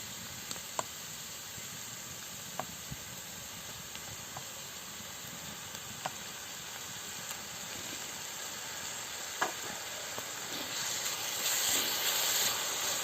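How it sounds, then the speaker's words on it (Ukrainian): Grated tomatoes hit carrots and onions frying in an Afghan kazan, producing a soft, even hiss of steam throughout with a few faint clicks, swelling slightly toward the end. "До морквочки і цибульки додаємо перетерті томати."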